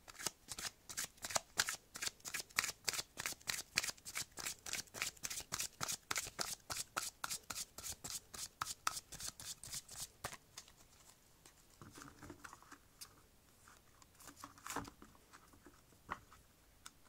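Playing cards shuffled before a fortune-telling reading: a rapid series of crisp, evenly spaced riffles fills the first ten seconds, followed by quieter scattered card handling.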